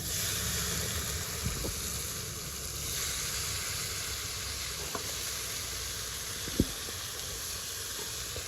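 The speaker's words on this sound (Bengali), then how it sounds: "কিছুটা সর্ষে নিয়েছি কালো সর্ষে তেলের মধ্যে দিয়ে দেবো" Black mustard seeds and a dry red chilli sizzle in hot oil, a quiet, steady hiss of frying that runs throughout with a few faint clicks and pops.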